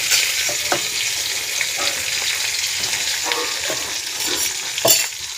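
Four slit green chillies fry in hot oil left over from frying fish, giving a steady, close sizzle broken by brief scraping clicks of stirring, with no talking.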